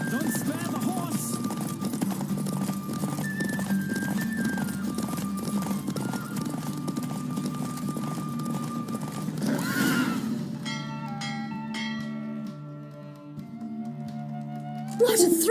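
Galloping horse in The Witcher 3 race, a steady rapid clip-clop of hooves with whinnies over game music for about ten seconds, then the hoofbeats stop and music carries on alone.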